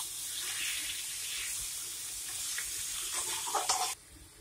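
Kadhai chicken stirred in a pan with masala, a steady sizzle with stirring scrapes growing busier toward the end before stopping abruptly, no talking.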